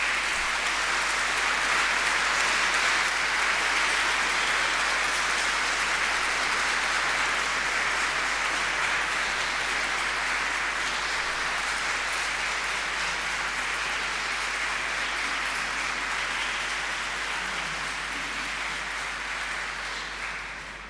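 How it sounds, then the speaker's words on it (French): A church congregation in Nice applauds a gospel choir at Sunday Mass, steady dense clapping filling the space for about twenty seconds and fading slightly at the end, with no talking over it. "On peut les applaudir peut-être."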